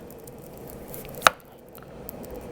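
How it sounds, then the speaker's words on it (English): A single sharp knife chop through a waxy potato, trimming its end flat on a board, one crisp close thud standing alone amid quiet kitchen background. "Chop the top and the bottom off to make it flat."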